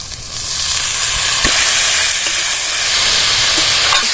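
Chopped vegetables hit hot oil with softened ginger and garlic in a pan for momo filling, giving a steady broadband sizzle with a few light stirring clicks, close and continuous, no talk.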